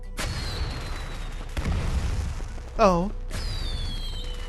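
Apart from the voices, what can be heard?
firecracker bursting, from the video game Arknights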